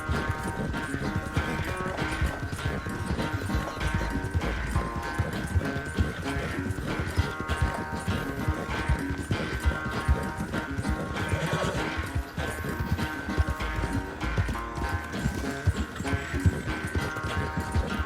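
Hooves pound in a rapid, steady clip-clop as a horse gallops in Red Dead Redemption 2, loud and continuous over a busy game soundscape.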